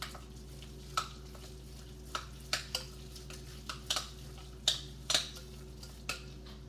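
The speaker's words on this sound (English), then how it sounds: "So you want to mix it up really good." Meatball mixture with breadcrumbs, seasoning and spices being mixed by hand in a bowl, giving a run of soft, wet squishing and scraping taps at an irregular rhythm, close and fairly quiet against faint background hum.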